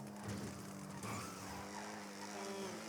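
Car tires skidding and an engine racing in the GTA 5 video game, a steady loud roar with screeching tire squeal running through the whole stretch, no talking.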